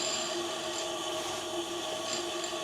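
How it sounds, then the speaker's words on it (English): Milling machine table being hand-wound across during a dial gauge alignment check, a steady faint mechanical whir and rubbing hum, continuous with no voices. "we'll wind our table across"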